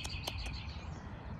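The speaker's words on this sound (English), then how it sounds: "is that a bird?" Several short, bright bird chirps near the start, then a faint chirp or two, over a steady low background hum; no voices.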